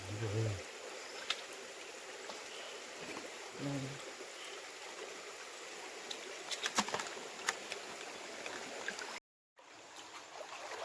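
A forceful stream runs at night in hilly Konkan country near Malvan, a steady broadband rush of water. A brief voice sounds at the start and scattered faint clicks and knocks occur over it.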